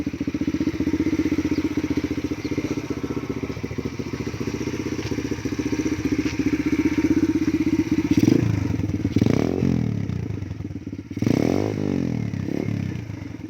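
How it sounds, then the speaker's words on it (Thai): A 125cc dirt bike motorcycle engine idling with a steady, close putter, joined near the end by louder clattering and scraping knocks. "แล้วก็กดสตาร์ทได้เลยนะครับผม ตาร์ตติดง่ายเลยทีเดียวนะครับผม"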